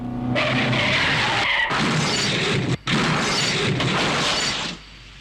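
A car skids loudly on the road and smashes into something, breaking glass, with a brief gap followed by more scraping and crashing before the noise fades out.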